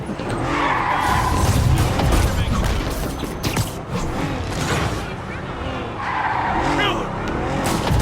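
In Marvel's Spider-Man, a car drives hard through New York streets with repeated tire squeals and skids over a revving engine, loud and close, with game voices talking alongside.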